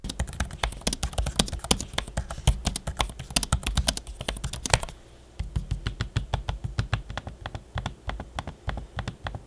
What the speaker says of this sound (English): here's a quick audio sample for both the trackpad and the keyboard so you can hear them in action